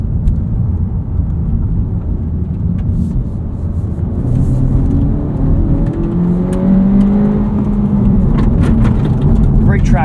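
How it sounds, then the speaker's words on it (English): A 2025 Honda Civic Si with a front-wheel-drive layout and limited-slip differential pulls steadily under acceleration from the driver's seat, a continuous low throaty engine drone with rising tones running beneath road noise for the whole stretch. "Engine sounds about the same as it used to."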